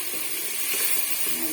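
Mutton browning in a pot for biryani, giving a steady, even hiss of frying that holds without a break through the short stretch.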